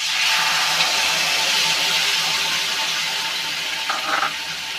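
Fried spice mix sizzles loudly and evenly in a hot pan as it is stirred in, a close, continuous hiss with a brief scrape of stirring near the end and no talk.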